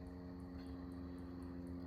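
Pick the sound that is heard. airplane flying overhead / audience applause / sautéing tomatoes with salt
airplane flying overhead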